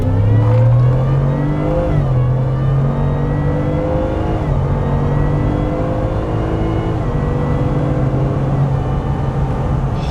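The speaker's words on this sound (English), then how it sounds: "Just give me a partial throttle, you can definitely hear the supercharger" A supercharged 2021 Ford F150 accelerates hard on an empty road. Its engine roar climbs under a rising supercharger whine that stays loud and continuous from inside the truck.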